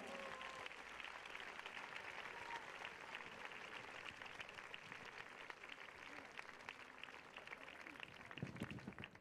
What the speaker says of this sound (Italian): sentiamo l'applauso